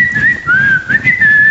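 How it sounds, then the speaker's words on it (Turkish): A person whistles a sliding signal, a long tone dipping and rising in a few short phrases, close and clear. "Geliyorum ıslığı."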